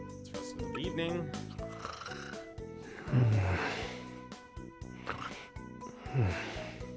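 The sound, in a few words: characters snoring while resting at inn, Trials of Mana video game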